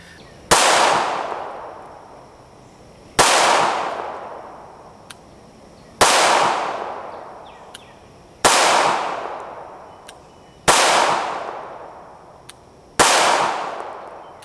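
HK VP9 striker-fired pistol shot at an outdoor range, six sharp loud reports spaced a few seconds apart, each followed by a long echoing decay, with no talk.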